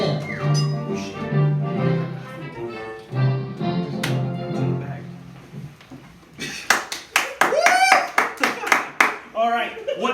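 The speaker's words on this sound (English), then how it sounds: "Cue the applause." Live studio audience applauding at the opening of a sewing-room talk show, a burst of clapping and cheering that swells after a stretch of talk and music, loud and close with whoops over it.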